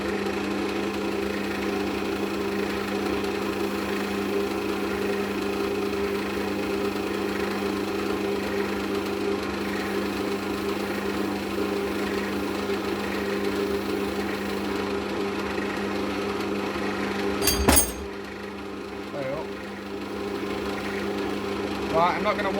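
A wood lathe motor hums steadily at speed for a long stretch while a pen is sanded, with faint rubbing underneath and a brief sharp clunk near the end.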